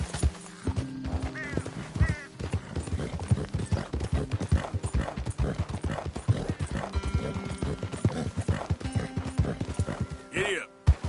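Ridden horse galloping in Red Dead Redemption 2, a dense, driving hoofbeat rhythm with snorts and a whinny near the end, mixed with voices talking over it.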